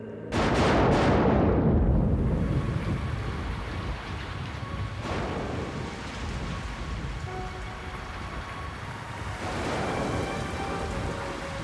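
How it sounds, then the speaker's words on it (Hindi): Steady rain pours down continuously, a dense wash of falling water with a sharp thunder-like crack at the start and swelling gusts later, no voices. "यहाँ पर बारिश से बच सकते हैं।"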